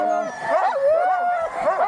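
Sled dogs on a dog-sledding trail give close, loud, excited yelps and whining howls in a short, overlapping burst.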